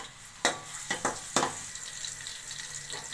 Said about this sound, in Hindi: ये मैंने इसमें ऑयल डाल दिया है और अब हम इसमें ऐड कर रहे हैं प्याज